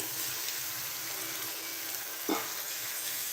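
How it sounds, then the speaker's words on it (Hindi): Quiet, steady sizzling of chicken necks frying with onions in a pan, with a soft stirring scrape partway through. "प्याज फ्राई करने के बाद अब हम यहाँ पर चिकन नेक ऐड करेंगे"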